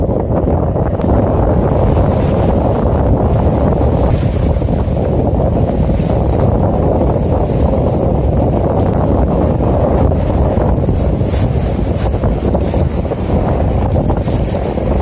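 Steady, loud wind rushes over an ocean shore, buffeting the microphone as a continuous roar with surf blended underneath and no voices.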